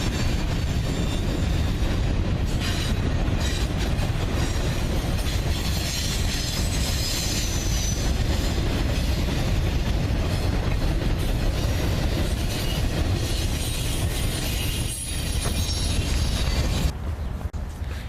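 A Norfolk Southern road railer freight train rolls past close by, a steady, loud rumble of wheels on rail with clickety-clack and faint squeal lasting the whole stretch, no talk over it.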